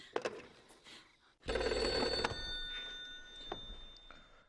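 An old telephone bell rings in bursts, a bright metallic trill starting after a couple of faint knocks, then trailing off with a lingering tone in a quiet room.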